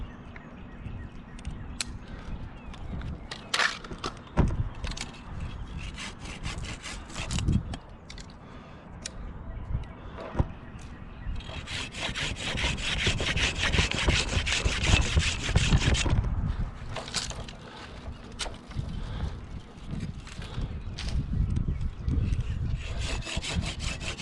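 A handsaw cuts through a tree branch during a solo tree removal. The rhythmic rasping strokes are close and continuous, grow louder midway, and a few faint bird calls sound behind them.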